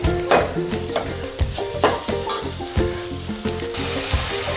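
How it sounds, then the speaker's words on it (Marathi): Chillies sizzling in hot oil with onion, garlic and spice masala, stirred with a spoon in a pan: a steady frying crackle punctuated by regular scraping, knocking stir strokes, close and fairly loud. "मिरच्याला छान भाजून घेते थोडंसं."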